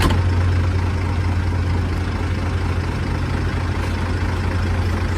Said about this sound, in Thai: เครื่องดีนะ